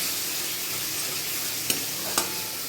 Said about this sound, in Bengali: এবার আমি মশলার পেস্টটা ঢেলে দেবো, এটা ভালো করে কষে নেব।